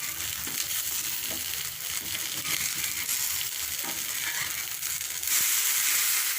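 Horse gram dosa fries in oil on a pan with a continuous bright crackling sizzle that brightens slightly near the end.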